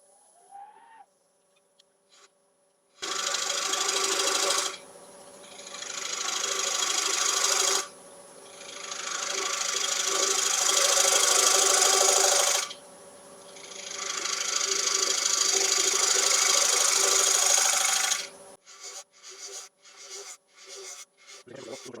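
A wood lathe spins a scrap log during turning, giving loud sustained whirring bursts that start and stop in three long stretches, separated by quieter pauses and a few faint knocks.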